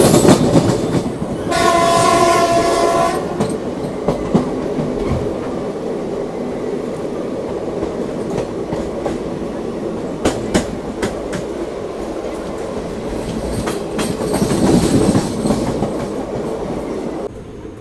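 A train on the Guntur railway line, the 12711 Pinakini SF Express, rumbles past nearby with a loud horn blast early on, then a long steady roar and clatter of wheels over rail joints.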